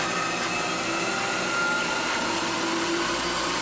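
A milling machine cutting CrMo 4140 steel: a continuous, loud, steady whirring and grinding drone with faint whine tones, unbroken throughout and with no talking.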